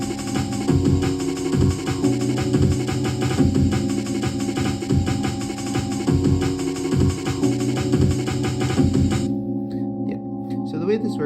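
Dense electronic music from a homemade sample-based hardware tracker sequencer loading samples from an SD card, steady beats and layered tones playing loud and continuous before cutting off near the end, followed by faint handling noise.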